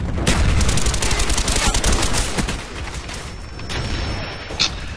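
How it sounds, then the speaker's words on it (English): A mortar barrage in Call of Duty: Black Ops 1 thunders as a loud, dense roar of explosions and rattling gunfire that eases slightly midway before a final sharp burst. "Friendly mortars inbound."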